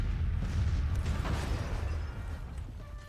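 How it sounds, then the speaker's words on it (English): Cannons firing in the Civil War strategy game Grand Tactician: a deep rumbling barrage of low booms rolling together, heavy at first and slowly fading, with no talk over it. "now the cannons are firing"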